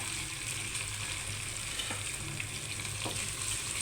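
Green chilies and curry leaves fry in hot oil for mango pickle, a quiet steady sizzle with a couple of faint scraping stirs.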